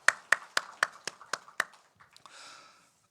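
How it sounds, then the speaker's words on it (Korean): Congregation applause during a Sunday church worship service: a run of about eight sharp, evenly spaced claps that then trails off into scattered softer claps and a faint murmur. "우리 다시 한번 축복의 박수 해주시겠습니다."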